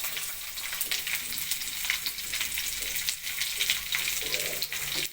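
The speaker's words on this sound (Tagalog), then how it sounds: "Saruno tayo dito bawang." Garlic and onion sauté in a pan with a steady, close, dense sizzle that crackles throughout, with no voices over it.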